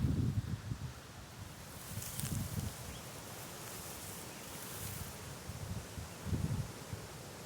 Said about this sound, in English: wait for the wind gust to pass